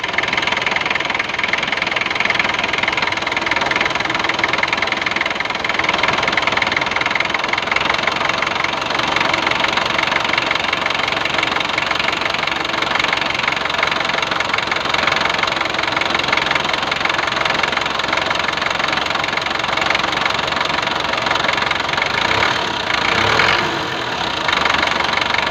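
An Isuzu 4B1 engine runs steadily after start-up, a loud, continuous mechanical drone with a rapid knocking rhythm throughout, heard close up with no talking.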